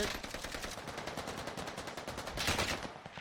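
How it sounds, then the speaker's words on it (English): Rapid automatic gunfire in the video game Warzone, a dense steady burst of shots fired in quick succession at moderate distance, sustained throughout with a slight swell near the end. "Shots coming on through."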